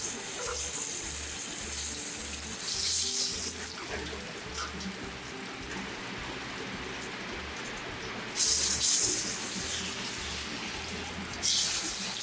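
Salmon sears in a really hot pan over a flame in a Chicago restaurant kitchen, a continuous loud hiss and crackle with short bursts of louder sizzle and some clatter.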